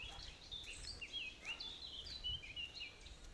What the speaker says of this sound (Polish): Tutaj macie kowalika.